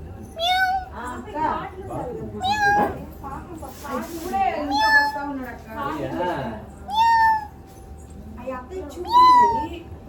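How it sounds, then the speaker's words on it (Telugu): A cat meows repeatedly in rising, drawn-out cries, mixed with a child's chatter and adult voices nearby. "పిల్లి."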